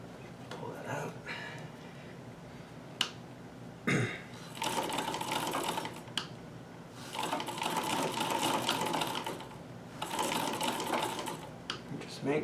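Davis vertical feed sewing machine stitching a zipper, running in bursts of steady mechanical whirring separated by short pauses, with occasional clicks and handling noises between runs.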